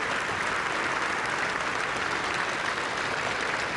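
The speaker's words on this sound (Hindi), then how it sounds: "हम सब इसकी ताली बजाकर स्वागत करें और उनके प्रति धन्यवाद" Audience at a national cooperative conference in a hall applauding: dense, sustained clapping from many hands, steady and loud for the whole stretch with no speech over it.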